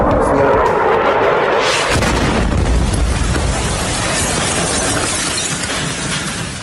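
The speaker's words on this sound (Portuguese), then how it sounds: "Esse som que você ouviu agora é de um ataque na Ucrânia" Explosions from an attack in Ukraine: a loud, roaring blast with a deep rumble that swells after a sharp burst near the start, then a long sustained rolling roar that slowly fades, no voices.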